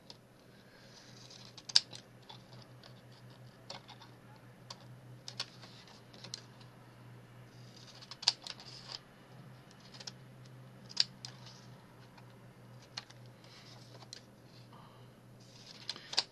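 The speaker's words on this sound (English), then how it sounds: "So I just cut little bit here and use my this scissors." Large fabric scissors snip through paper envelopes in a series of sharp, crisp cuts at irregular intervals, close up, with light rustling and handling noises between snips and no speech.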